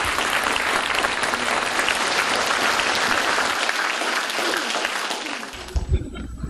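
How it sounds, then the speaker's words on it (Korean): Lecture-hall audience of university students applauding to welcome the POSCO chairman to the stage, a broad, sustained wash of many hands clapping that fades out at the end. "박수로 맞아주시죠."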